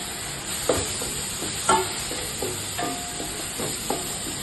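Prepared paste is stirred into a pan of sizzling oil for a mango fish curry, with a steady frying hiss and several sharp spoon scrapes and taps close by, no voices.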